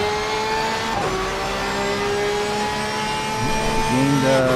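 GT3 race car engines roaring around the Laguna Seca circuit in a racing video game, steady high-pitched engine drone with gear shifts and pitch swings near the end, loud and continuous throughout.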